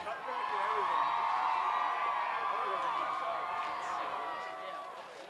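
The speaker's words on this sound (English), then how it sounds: "Jack Cody getting washed over by the cheers of the Titan crowd" A Titans football crowd at a Thanksgiving Turkey Bowl game in Nashua, New Hampshire cheers and shouts steadily after a score, the roar swelling early then slowly easing off, with a few voices mixed in.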